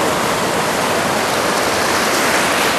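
Ocean waves at Myrtle Beach wash in a steady, loud, broadband roar close by, with no distinct breaks and no voices over it.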